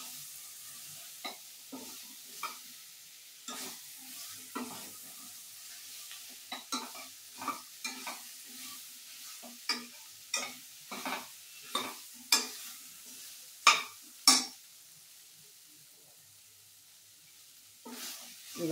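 Vegetables stir-fried with a little garam masala for vegetable pulao, a spoon scraping the pan in irregular clinks and scrapes over a soft, steady sizzle, fairly close and moderately quiet, with no talking.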